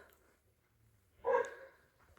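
A dog barks once outdoors on a foggy, rainy winter day, a single moderately loud bark standing out from a quiet rural background.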